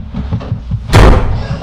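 A bedroom door in the horror film Paranormal Activity slams shut with one loud, heavy bang after a low, quiet murmur.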